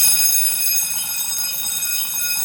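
A fire alarm horn on a Novec 1230 suppression system sounds continuously, a shrill, steady high-pitched tone with no pauses, fairly loud and close.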